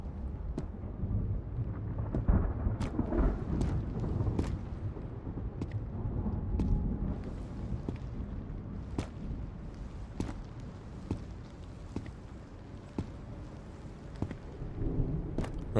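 Rain falls steadily in the video game Road to Vostok, a dense rushing patter with scattered sharp taps and low rumbling underneath, without speech.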